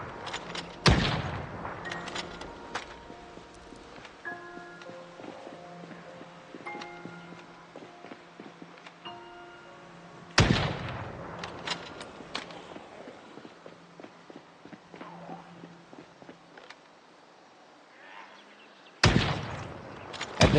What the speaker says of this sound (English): we're mostly just shooting to make noise